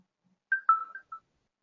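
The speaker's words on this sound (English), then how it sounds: "the notification goes to the Windows Phone notification bar" A Windows Phone sounds a push notification alert as a short chime of four quick, clear tones, alone in a quiet background.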